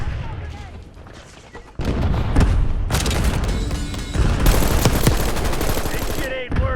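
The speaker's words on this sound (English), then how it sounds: "Percussion grenade!" A percussion grenade detonates in the shooter Call of Duty: Black Ops 6, with a heavy burst cutting in partway through, then sustained gunfire and blasts that stay loud to the end.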